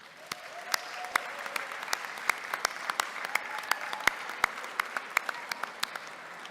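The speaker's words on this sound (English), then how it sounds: "give your family, friends, and our faculty and staff a round of applause for their support" Graduates at a kinesiology commencement applauding their families, friends, faculty and staff, a moderate crowd clapping steadily with crisp distinct claps standing out, sustained through the whole stretch.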